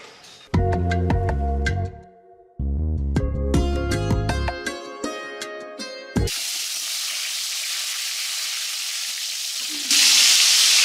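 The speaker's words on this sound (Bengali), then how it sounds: "বেগুনগুলোকে ভাজা করে নিই" Eggplant pieces, washed and unsalted, frying in hot oil at home: loud crackling sizzle at close range with clanks and stirring at first, then a steady hissing fry that grows slightly louder near the end, with no talking.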